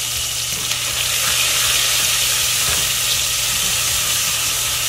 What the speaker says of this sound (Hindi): अब मैं स्प्रिंग अनियन का वाइट पार्ट डाल रही हूँ जो मैंने सेव करके रखा हुआ था अपने फ्राइड राइस के लिए